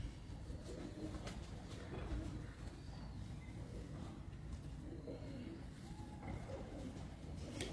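Multan golden champion pigeons coo faintly in a loft under a low, steady background hum, soft and somewhat distant, with muffled voices in the background.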